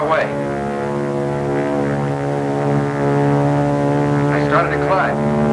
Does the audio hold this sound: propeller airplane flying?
yes